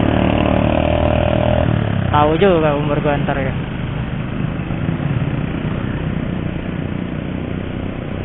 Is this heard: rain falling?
no